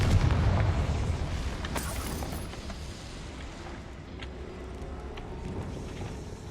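The Confringo fire spell explodes in Hogwarts Legacy: a loud, rumbling blast with crackling bursts that fades into a sustained, roaring wash of fire and debris noise.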